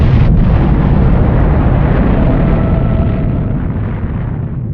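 The Able atomic bomb airburst over the target fleet at Bikini in July 1946 gives a loud, sustained low roaring rumble that slowly fades, dense and continuous with no voices.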